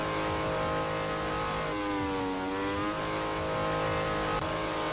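A Toyota Trueno engine revs with a raspy, buzzing tone, held steady then rising and dipping in pitch over a few seconds, loud and close with no talk.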